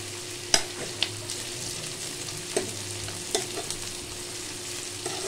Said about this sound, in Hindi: इसको हमें हल्का गोल्डन ब्राउन कर लेना है प्याज को